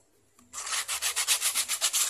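Steady back-and-forth scraping of sandpaper on the plastic license plate bracket of a Honda PCX scooter, a rapid rhythmic rasp that starts abruptly and continues in even strokes, close up.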